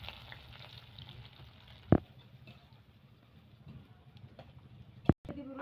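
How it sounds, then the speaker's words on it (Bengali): Chopped onions fry in hot oil with a soft, constant sizzle, broken by two sharp utensil clacks, while a person talks in the background. "প্রথমে আমি তেল দিয়ে দিব, মরায় পেঁয়াজ কুচিটা দিয়ে দিব।"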